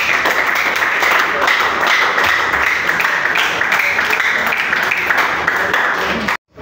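Applause from a large audience at a public address in the Democratic Republic of Congo, a steady dense wash of clapping that holds at even loudness for several seconds and then cuts off abruptly.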